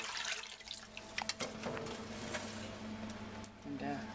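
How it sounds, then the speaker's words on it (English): A hot metal casting in its investment mould plunges into cold water, sending up a burst of hissing, bubbling and sputtering that goes on as the water churns around it, heard close. "This one's the thing when it's plunged into cold water to return to a slurry."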